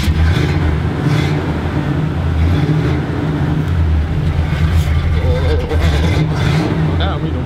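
A 1985 Chevrolet Caprice engine runs after a cold start, a loud, steady low rumble with a slight rise in revs, while someone talks over it throughout.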